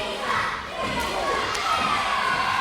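A live wrestling crowd in Aylesbury reacts with a sustained mix of shouts, jeers and chatter that fills the hall at a steady loud level.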